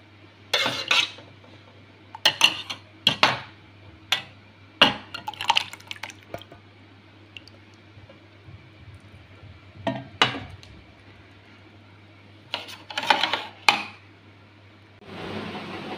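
Spoon and vessel clinks as mango is stirred into cooled milk with sago for mango payesh, scattered sharp taps and scrapes in short bursts separated by quiet gaps, with a brief liquid swish at the end.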